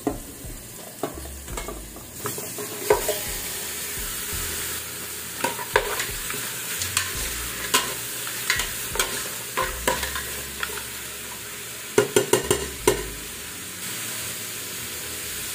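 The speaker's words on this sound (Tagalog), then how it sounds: "Lagay natin yung ating pinakuluan na beef." Boiled beef with ginger sizzles in a hot pan while a utensil stirs it. Frying hiss runs throughout, broken by repeated sharp scrapes and clatters of the stirring at an irregular rhythm.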